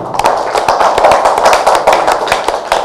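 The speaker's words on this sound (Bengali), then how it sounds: "বাট এম রাহিমের জন্য একটা তালি চাই" An audience at a press event claps loudly for the director, a dense burst of close, crackling applause lasting about three seconds with no talk over it.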